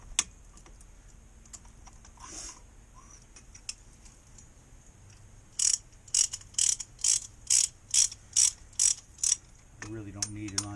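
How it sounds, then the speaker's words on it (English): A ratcheting brake caliper piston depressor tool clicks through about ten sharp, evenly spaced ratchet clicks while working on a Chevy Impala's brakes, preceded by quieter handling noises and followed by a low mechanical hum. "This is a piston depressor. It's ratcheting."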